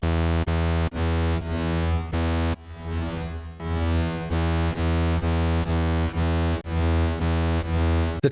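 A saw wave run through a diffusion delay plugin while its knobs are tweaked gives a loud, buzzy sustained tone broken by brief regular gaps, with a smeared, washy stretch partway through.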